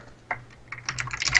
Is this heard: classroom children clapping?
no